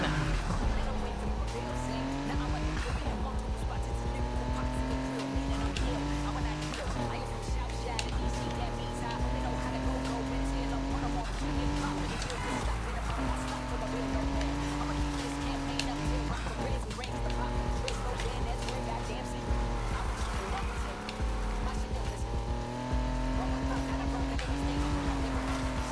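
Cars race in Need for Speed Heat, with engines revving up and down in repeated rising whines, tires squealing and skidding, and a voice talking over the loud, continuous driving.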